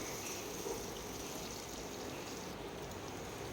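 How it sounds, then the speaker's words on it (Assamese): Boiled potatoes fry in oil with bay leaves, giving a faint, even sizzle and crackle that holds steady throughout. "আৰু আলুখিনিও ভালদৰে মই ফ্ৰাই কৰি ল'ম"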